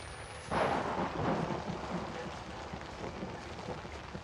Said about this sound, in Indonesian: Air hujan doang ya.